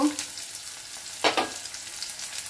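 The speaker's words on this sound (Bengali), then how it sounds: "এখন পেঁয়াজগুলো ভাজা হয়ে গেছে, এবারে আমি বেগুন আর আলুটা আগে দিয়ে দেব" Onions, aubergine and potato frying in a pan give a steady hissing sizzle, with a short louder scraping burst partway through as they are stirred.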